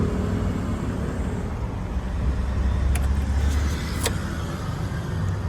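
A 2023 Nissan NP300 pickup engine idling steadily after starting, a continuous low rumble heard close up, with a couple of brief faint clicks partway through.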